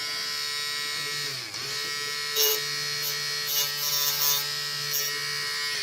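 A USB-powered portable Dremel rotary tool cutting, a steady high-pitched whine with a brief dip in speed midway, then rising bursts of grinding as the bit bites into the workpiece, close and continuous with no talk.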